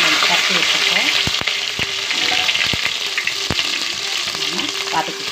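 Fenugreek and cumin crackle in hot oil, tempering for a Tamil fish curry: a loud, dense, continuous sizzle close by, broken by a few sharp clicks and taps from a stirring spoon.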